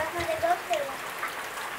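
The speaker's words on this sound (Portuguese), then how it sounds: "É chuva na Macaíba, pessoal. É chuva." Steady rain hisses in the background in Macaíba, Brazil, while a voice talks over it.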